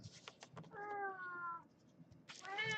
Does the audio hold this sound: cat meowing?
yes